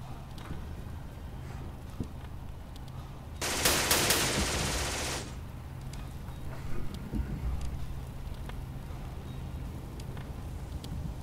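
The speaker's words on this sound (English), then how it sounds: "They're too vulnerable to those two machine guns." A burst of rapid machine gun fire in a military video game crackles for about two seconds, dense and loud over a low, steady game background.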